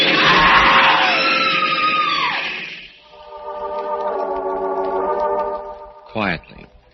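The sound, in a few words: woman screaming in an old-time radio drama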